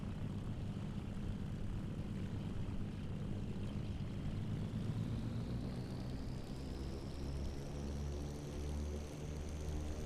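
A twin-engine Baron aircraft in a flight simulator game drones steadily while taxiing, a loud continuous engine hum with a slowly rising whine and no pause throughout.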